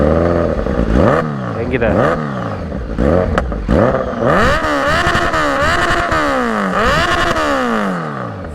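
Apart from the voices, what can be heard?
Kawasaki Z900 motorcycle engine starting and revving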